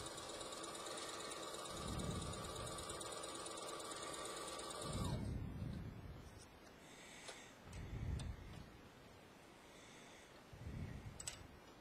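A sewing machine quilting a diamond pattern with a twin needle and quilter bar runs quietly in a steady whir for about five seconds, then stops, leaving soft handling bumps and rustles.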